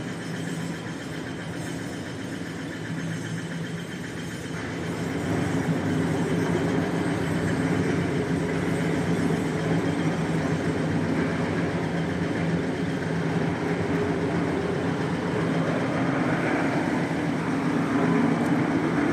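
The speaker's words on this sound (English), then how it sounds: "the wastewater come here and sucked and pumped into the huge reservoir by a very powerful pumping motor" A powerful pumping motor at a wastewater recycling plant, which sucks wastewater into a huge reservoir, drones steadily and loudly, growing slightly fuller after a few seconds, with no talking.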